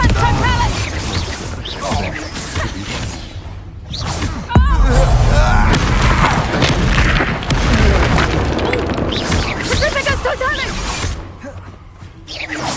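Confringo fire spell explosions in the video game Hogwarts Legacy, with a sudden deep boom and whooshing blasts, loud and close, amid a dense mix of game combat sound and voices speaking.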